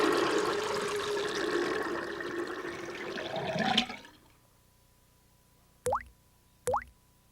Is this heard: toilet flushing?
yes